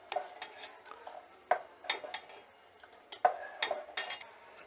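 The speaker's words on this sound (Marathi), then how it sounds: "मिक्स करून हलवून घेऊयात." Spoon stirring Malvani varan dal in a metal pot, several sharp scraping clinks at irregular intervals with quiet gaps between, close and moderately faint, no voices.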